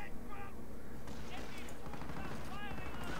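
Gunfire from a machine gun in the strategy game Company of Heroes rattles in bursts under mixed battle noise, with people talking over it throughout.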